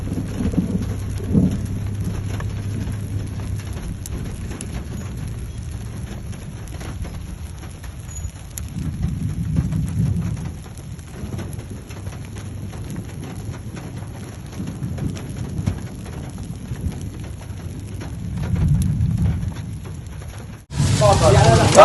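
Steady rain falls outdoors at al-Habqa, south of Al-Lith, a continuous rushing hiss with low rumbling swells running throughout, ending in a sharp loud burst.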